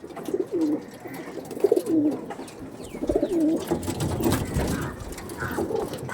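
Pigeons coo in repeated low, throaty phrases at close range, with soft rustling and faint mechanical whirring in the background.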